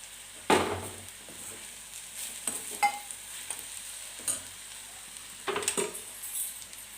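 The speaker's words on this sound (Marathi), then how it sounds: "चवीनुसार मी परत एकदा चांगलं परतून घेते" Bitter gourd vegetable with jaggery being stir-fried in a pan, with intermittent scraping stirs and clinks over a faint background sizzle, no talk.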